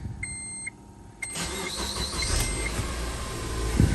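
A Honda Element's engine cranks and catches after a few warning beeps, then settles into a steady close idle.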